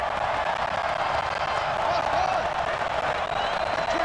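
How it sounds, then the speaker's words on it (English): A football crowd roars inside the Dome stadium during a Falcons at Saints game, a dense, steady wall of loud cheering and noise with no pauses. "The crowd here in the Dome making things difficult."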